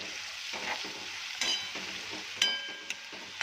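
Red chili masala with a pinch of turmeric is stirred in a pan for poha. A soft, steady sizzle is broken by several clinks and scrapes of a spoon.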